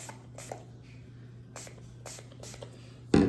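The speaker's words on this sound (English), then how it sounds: "take the cleaner and spray it on here" Several short, sharp hisses of a spray bottle of M-Pro 7 gun cleaner on a Glock 27 pistol in quick bursts over a low steady hum, ending with a louder rustling clatter.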